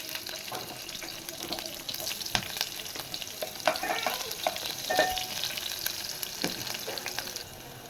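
Onions frying in hot oil with tempering seeds in a pan for a ridge gourd curry give a continuous close sizzle with crackles, pops and stirring scrapes. The sizzle surges briefly midway and keeps going with no one talking.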